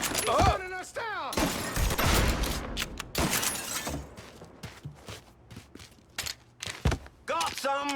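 Gunfire bursts in the Mafia 3 Definitive Edition video game, scattered through a chaotic fight with loud shouting voices, impacts and shattering sounds, with the shots coming in uneven clusters.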